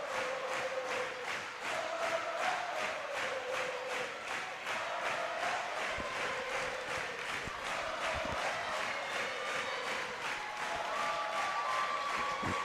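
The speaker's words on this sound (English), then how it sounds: "I think the CSN fans would rather listen to that Wynne crowd than me talk." A loud, sustained crowd roars and cheers through a state high school volleyball match between Pulaski Academy and Wynne in Arkansas, with a whistle-like tone and scattered shouts riding over steady, dense crowd noise and no commentary.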